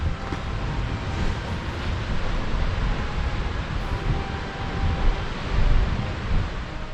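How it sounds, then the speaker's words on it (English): Waves wash against a shore in Michigan's Upper Peninsula, a continuous broad rumbling surge mixed with wind noise on the microphone, with no voices. "Listen to those waves."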